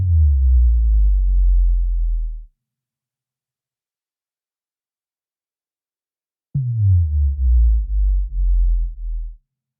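Two long, deep synth notes with an LFO sweeping a low-pass filter and distortion, made in Ableton Live, each droning for a few seconds and wobbling slightly, separated by silence.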